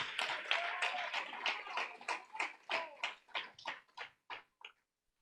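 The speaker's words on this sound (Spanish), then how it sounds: "Dale un fuerte aplauso al Señor." A church congregation applauds, a quick run of faint claps that settles into a slower rhythm of separate claps and stops cleanly after about four and a half seconds.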